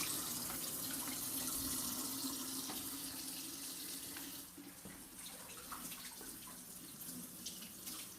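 Tap water runs steadily into a kitchen sink while potatoes are washed, a continuous close splashing stream that softens slightly toward the end, with no voices.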